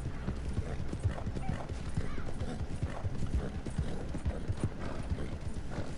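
A horse's hooves clip-clop steadily in Red Dead Redemption II on PS4, a brisk, even rhythm of close, firm hoofbeats continuing throughout with faint background texture and no talk.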